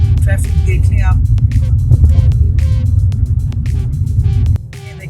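Road traffic on the drive to an airport in the USA, heard as a loud, constant low rumble from inside a moving car, with a person talking over it throughout before the rumble drops near the end.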